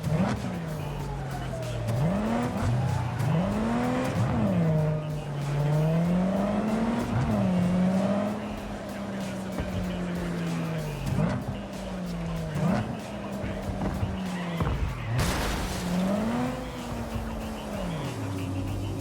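Car engine in Cyberpunk 2077: Phantom Liberty revving hard, pitch rising and falling as tires squeal through repeated slides, continuous and loud, with a sharp crash-like burst late on.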